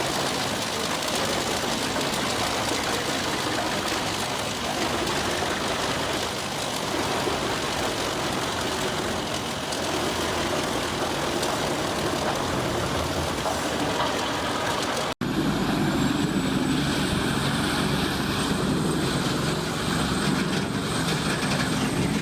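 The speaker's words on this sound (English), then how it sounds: "Eschelbach B-Bear 110, a powerful wood chipper in action, grabbing and feeding large tree trunks into its body." An Eschelbach B-Bear 110 wood chipper feeds large tree trunks, a loud, continuous engine roar and grinding rumble lasting throughout, close by with no speech, briefly cutting to a slightly different machine tone partway.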